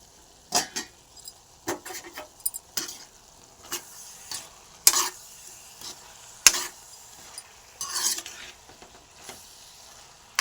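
A pan of ivy gourd curry simmers on low flame, heard as intermittent scrapes and clinks as a spoon stirs it, the bursts irregular and close with a faint sizzle between them.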